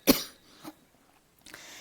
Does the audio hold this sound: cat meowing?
no